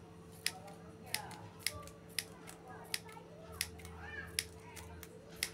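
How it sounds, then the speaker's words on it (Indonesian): Scissors snip a plastic mineral water bottle into small pieces in sharp, evenly spaced clicks, about two per second, with a faint steady hum behind them. "Kemudian kita gunting kecil-kecil ya."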